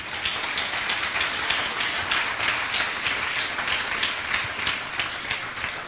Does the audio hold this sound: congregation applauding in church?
yes